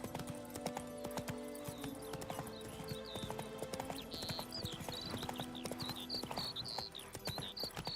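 Roach the horse trots on in The Witcher 3, hooves clip-clopping in a quick steady rhythm with scattered birdsong behind, fairly faint overall.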